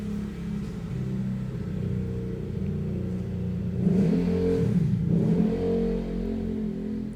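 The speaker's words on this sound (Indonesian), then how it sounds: "Jujur kedengeran gak guys suara mesin?" A car engine revs and accelerates in a steady mid-range drone, swelling louder around the middle and holding a continuous rumbling whir with no talk over it.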